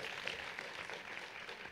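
An audience at a political roast event applauds for Jānis, a steady, dense wash of clapping heard faintly from a distance.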